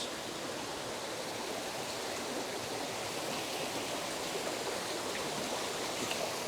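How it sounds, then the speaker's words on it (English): River waterfall with splashing water, a steady broadband rush and hiss of falling water, continuous and even, heard alone without talk. "We'll bring you a little closer to the falls, a little splashing of water."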